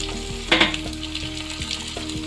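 Beef sizzles in a hot pan with ginger garlic paste, a steady close frying hiss with a few louder spattering bursts and faint scraping stirs, no talking.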